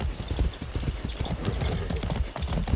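Horse hooves clip-clop steadily in Far Cry 6, close and fairly loud, a brisk run of overlapping hoof strikes with a short snort or whinny mixed into the galloping rhythm.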